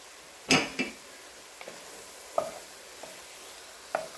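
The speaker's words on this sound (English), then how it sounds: "we're going to go ahead and add in our onions, and we're just going to cook the onions till it's translucent" Ground meat and onions cook in a pot for lasagna soup. A faint sizzle runs under a few sharp scrapes and taps of a spoon against the pot, spaced irregularly and clear of any voices.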